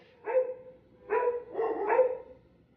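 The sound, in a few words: pug dogs barking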